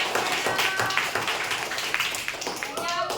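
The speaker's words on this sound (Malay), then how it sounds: "Betul, tepuk tangan yang kedua." A class of pupils claps together for a correct answer in a lesson. The claps are dense and steady for a few seconds, with children's voices mixed in.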